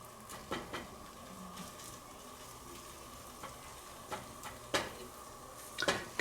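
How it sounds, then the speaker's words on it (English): Egg scrambled in a frying pan for a bacon, egg and cheese English muffin sandwich: a faint, steady sizzle with occasional soft taps and scrapes of a utensil, no voices. "Keep giving a little scramble."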